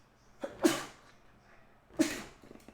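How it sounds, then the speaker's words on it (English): Two close sneezes about a second and a half apart, each with a short sharp inhale before the burst, alone in a quiet room. "Hang on, I have to sneeze."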